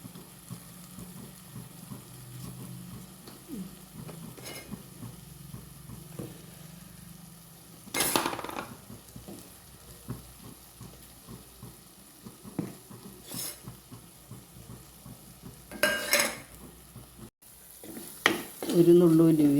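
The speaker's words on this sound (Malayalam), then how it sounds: "തക്കാളിയുടെ തക്കാളി ഒന്ന് എണ്ണ തെളിയുന്നത് വരെ ഒന്ന് വഴറ്റി കൊടുക്കാം" Chopped tomato sautéing in oil for a Kerala-style fish curry, a soft continuous sizzle with several sharp spoon-scraping stirs at intervals, nearby and moderately loud.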